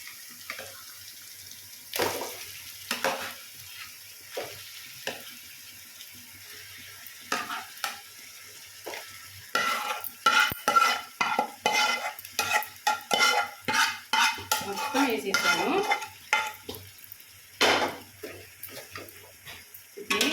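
Fish pieces for a korameenu (murrel fish) curry are stirred in a pan, with intermittent scraping and clinking strokes that grow busier midway, over a faint sizzle and close kitchen sounds.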